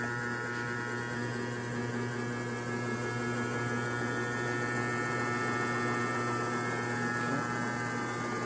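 Steady electric whine and hum from a motor-generator machine spinning up, a continuous close drone with strong even tones and no voices.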